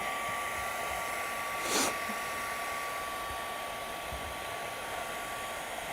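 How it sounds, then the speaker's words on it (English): A craft heat tool blows hot air over card and heat-resistant acetate, a steady close whooshing drone with a faint hum throughout and one brief louder gust partway through. "let me just bring in my heat tool and heat this up."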